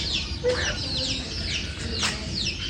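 Domestic geese call in a village yard during the monsoon, giving a few harsh, nasal honks in quick succession at middling distance over a soft, steady background.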